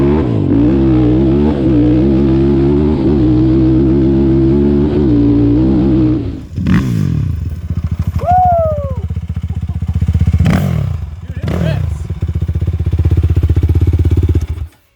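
A modded Honda 400EX ATV engine at a drag race roars loudly with a rippling rev, then cuts to a rough, lumpy idle punctuated by sharp throttle blips and a brief whine.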